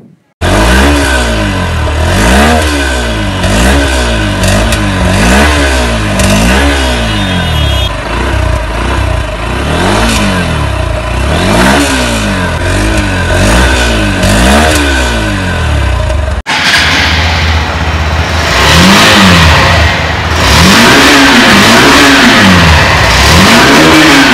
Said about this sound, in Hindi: अब सुन लेते हैं दोनों ही बाइक के एग्जॉस्ट नोट को